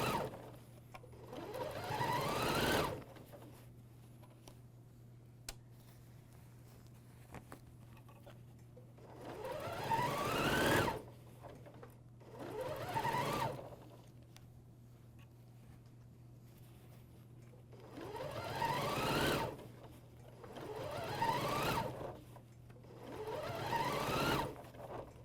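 An AirThread 2000D serger stitches a bathrobe in short whirring bursts separated by pauses, with a faint steady hum running underneath throughout.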